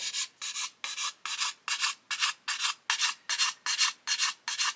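A worn sanding stick rubs back and forth over the plastic parts of an Airfix 1/72 Lancaster B.III kit, about a dozen close, even, rasping strokes in a steady rhythm with brief pauses between them.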